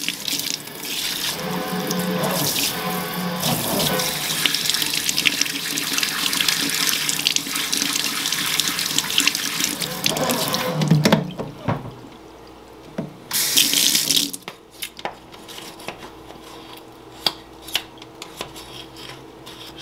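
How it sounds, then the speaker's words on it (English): Water gushes from a tap into the impeller housing of a Fluval FX6 canister filter, a loud continuous splashing rush that breaks off partway, then returns in short bursts with small clatters between. "Just shoot some water in there. Get whatever gunk is in there out of there."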